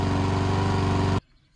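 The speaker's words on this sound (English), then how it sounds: "Here's my lawnmower for a comparison." A petrol lawn mower engine runs at a steady, loud chugging idle close by, then cuts off abruptly into near silence.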